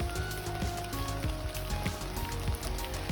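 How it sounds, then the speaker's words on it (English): Rain patters steadily on leaves and surfaces during a wet hike in the Smoky Mountains, a dense, close crackle of drops with occasional louder taps and no voices. "it's actually raining, like you can hear it"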